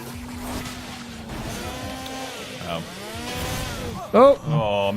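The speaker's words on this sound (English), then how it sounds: "Oh, those chainsaws," Chainsaws in the video game DmC Devil May Cry whine and rev in rising and falling sweeps, continuous and moderately loud, with a sharp shout breaking in near the end.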